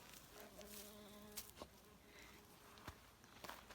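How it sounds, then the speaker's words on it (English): Bumblebees buzzing around flowers in a greenhouse, a soft steady insect drone rising and falling as individual bees pass nearby, with a few faint taps and knocks in between. "Lots of bees."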